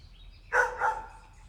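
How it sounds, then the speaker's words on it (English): Two short barks from a neighboring dog, moderately far off and fairly faint, about a quarter second apart, over low background rumble. "the neighbor's dog barking."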